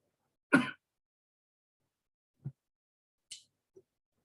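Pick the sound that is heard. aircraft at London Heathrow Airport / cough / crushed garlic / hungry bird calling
cough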